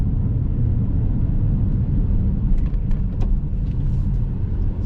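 A Porsche 996 911 Carrera on the move gives a steady, full road rumble of engine and tyre noise, close and constant, with a few brief higher rattles near the end and no talking.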